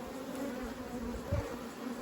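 Honeybees drone steadily around an opened hive during beekeeping work, a close, continuous humming buzz with no talk.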